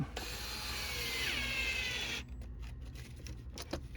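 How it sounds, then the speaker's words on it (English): A power drill whirs loudly for about two seconds as it drives a screw, then cuts off, leaving faint knocks and handling noise. "Turn my drill tension way down so I don't overdo it."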